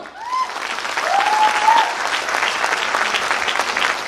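An audience bursts into loud, sustained applause, a thick roar of clapping that builds within the first second and carries on, with a few whoops and cheers rising over it early on.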